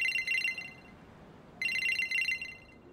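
Phone ringtone in the Taiwanese horror game The Bridge Curse: Road to Salvation, a bright electronic trill that plays in two bursts separated by a brief gap, clear and moderately loud with no talk.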